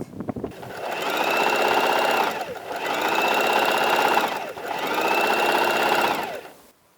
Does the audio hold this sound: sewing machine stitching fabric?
yes